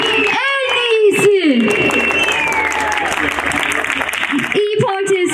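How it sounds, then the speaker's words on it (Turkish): Crowd applause at an İyi Party rally in Esenyurt, Istanbul, as the party's mayoral candidate is introduced, a broad wash of clapping that fills the middle of the clip between stretches of an amplified announcer's voice. "Başkan adayımız Sayın Muharrem Yıldız o güzel alkışlarınızla huzurlarınızda."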